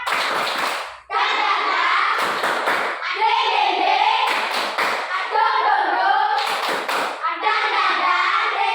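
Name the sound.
class doing a rhythmic spirit clap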